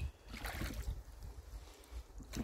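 A strong crosswind blows across a lake during an evening row, a rough gusty rush with breathy wind noise buffeting the microphone, steady and moderately loud throughout.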